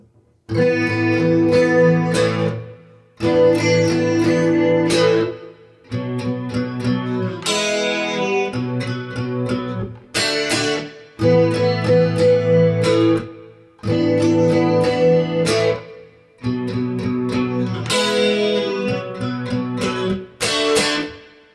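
Loud, distorted electric guitar chords struck in repeated bursts with short gaps between them, a slow, chunky riff played alone without talking.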